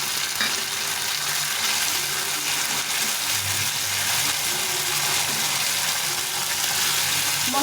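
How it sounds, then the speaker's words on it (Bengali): A ground paste of ginger, cumin and chili fries in a pan for a soya bean curry, giving off a dense, constant sizzle that stays even and close throughout. "এটা দিয়ে দিলাম বাটা মশলা রান্না করবো"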